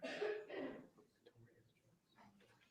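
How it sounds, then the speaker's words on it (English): A single cough sounds at the start of a courtroom sentencing hearing, heard faintly over a remote feed, followed by quiet room noise. "I heard a cough."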